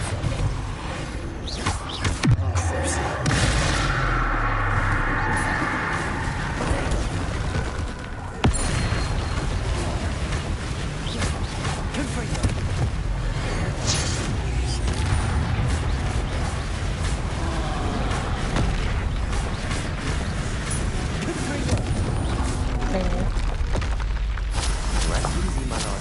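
Confringo and Depulso spell blasts go off in the Hogwarts Legacy video game, with dense booming bursts and thuds over a busy, loud game soundscape, a brief dip near the middle, and a voice calling out now and then.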